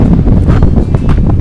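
Strong morning wind on Patagonia's W Circuit trek buffets the microphone in a loud, low, gusting roar that rumbles for a second and a half with no voices.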